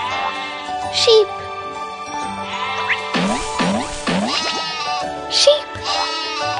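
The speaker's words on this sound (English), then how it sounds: "Sheep." Cartoon-style sheep bleats in a children's animal park song, a burst of sliding, wobbly bleats in the middle amid tinkling music and spoken voices.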